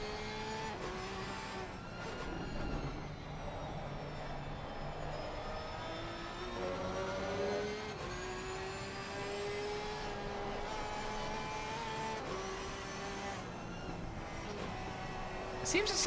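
An onboard race car engine in a racing video game on the Nordschleife drones continuously with a layered, harmonic whine, holding steady revs and shifting pitch slightly, loud and close throughout.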